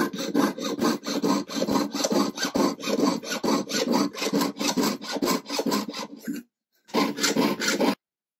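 Sheet metal being cut for fold forming, heard as a close, loud run of rhythmic rasping strokes that pause briefly near the end and then resume for a short final burst.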